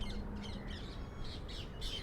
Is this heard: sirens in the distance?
no